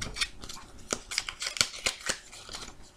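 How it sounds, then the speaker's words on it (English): A deck of playing cards split into two piles and shuffled by hand, giving a run of quick, crisp riffling snaps and soft rustles at close range, with no voices. "And shuffle each part so we don't know exactly where it is in there."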